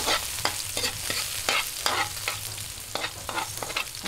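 Garlic sautés in annatto oil for pansit sotanghon guisado, giving a steady close sizzle broken by repeated scraping stirs of the pan at an uneven rhythm, with no talking.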